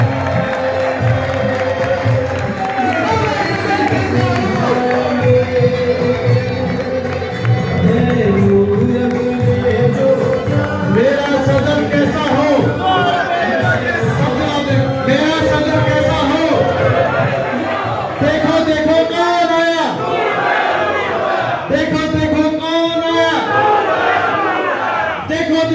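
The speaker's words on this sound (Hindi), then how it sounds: "खड़े होकर इनके लिए तालियां बजाएं" A crowd at a political rally applauds and cheers for candidate Noor Ahmed, a loud, sustained roar of clapping and shouting with bursts of chanting rising near the end.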